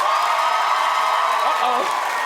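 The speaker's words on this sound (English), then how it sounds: "Clap for Lester." Studio audience of a daytime talk show clapping and cheering during a poll, a steady dense wash of applause and crowd noise throughout with a brief voice rising over it.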